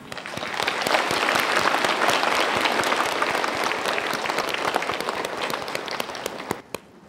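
Warm applause from a large audience welcoming distinguished guests at a broadcast event, steady and full for several seconds before tapering off with a few final claps.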